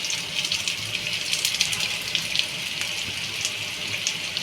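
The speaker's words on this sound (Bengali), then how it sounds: "আমি এবার জলটা দিয়ে দেবো।" Water poured into a pan of Bengali tengra fish curry with salt and turmeric, a steady continuous hiss and splash of flowing liquid lasting throughout, moderately close with no talking.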